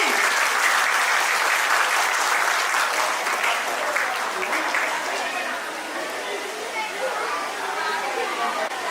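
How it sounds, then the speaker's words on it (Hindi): Audience applause fills a school annual function, dense and loud at first, then gradually thinning, with voices mixed in among the clapping. "कृपया ताली बजाएं और हमारे बच्चों का मनोबल बढ़ाएं।"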